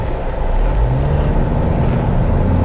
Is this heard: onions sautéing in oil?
no